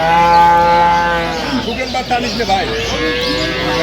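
A cow gives a long, drawn-out moo at Aftabganj cattle market in Dinajpur, then voices talk over a busy outdoor background.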